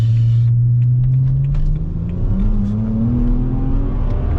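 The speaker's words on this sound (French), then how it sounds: "Ça pousse et puis les rapports passent très vite." A Mercedes C63 AMG bi-turbo pulls hard with a loud, close engine note that climbs in pitch, then drops sharply at a quick gear change and keeps building again.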